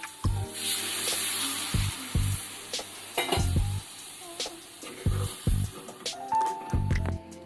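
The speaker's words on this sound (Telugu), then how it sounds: "ఇప్పుడు చింతపండు పులుసు పోస్తున్నానండి" A steady sizzle from a hot pan, with liquid hitting it and repeated stirring and scraping clinks throughout.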